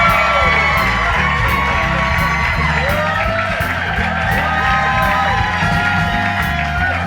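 A live theater audience at the Triad Theater in New York City whoops and cheers for a radio show, loud and sustained, with upbeat music playing underneath.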